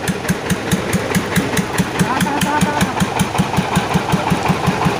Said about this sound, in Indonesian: ditarik ke ditekan menggunakan mesin diesel khusus karena untuk beratnya sendiri sangat berat